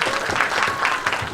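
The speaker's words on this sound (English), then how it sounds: "I think a round of applause for them." An audience at a Rotary awards evening in East London applauds the organising team, a dense burst of clapping that stays steady and close for the whole moment.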